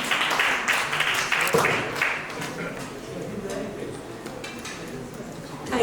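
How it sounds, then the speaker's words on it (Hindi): Audience clapping and applause at a Bollywood health camp press event, a steady crowd of hands filling the room, loudest at the start and easing to a softer, sustained patter toward the end. "तालियां बजनी चाहिए,"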